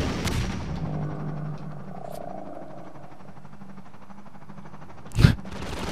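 Rockets fire in a Quake-style first-person shooter level: a loud burst at the start, then a steady low hum, and a single sharp, booming blast near the end.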